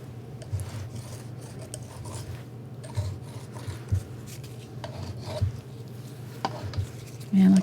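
A tool scrapes lines through acrylic paint on canvas, giving soft rasping strokes in an irregular rhythm, close and fairly quiet, with faint ticks between the strokes.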